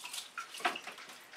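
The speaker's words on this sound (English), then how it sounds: "Give me a second while I wash my hands off." Running tap water splashes over hands being washed, a soft, close, uneven spatter with brief louder splashes and no voices.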